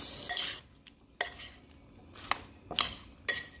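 Tuna ceviche (kinilaw) is stirred in a bowl, with a series of irregular scraping clinks of a utensil against the bowl, close and fairly quiet, with no talk.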